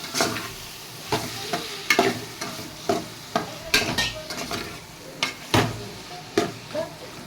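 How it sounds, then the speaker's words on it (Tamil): Prawns frying in a pan, with a steady close sizzle broken by repeated scraping stir strokes against the metal, alone without talk. "இறால் இப்போ போட போகிறோம்."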